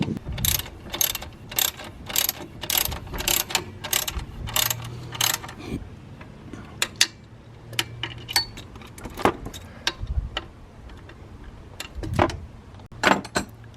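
A ratchet tightens the locking plate on a lightweight crank pulley, making close, crisp clicking strokes in quick runs, then slower scattered clicks and small metallic knocks.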